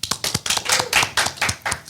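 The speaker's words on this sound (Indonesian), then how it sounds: "Tepuk tangan semuanya." Studio audience clapping to welcome a guest onto a talk show, a steady burst of close, rhythmic hand claps pulsing evenly for a couple of seconds with no voices over it.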